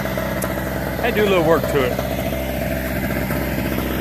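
A Harbor Freight generator engine idles freshly started outdoors on a hot day, a steady low mechanical hum running throughout while someone talks over it.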